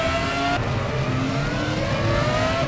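Race car engines in RaceRoom Racing Experience, FRX-17 open-wheelers at Hockenheim, roar loudly and steadily throughout, with a near engine holding a high whine while other cars' engines rise and fall around it.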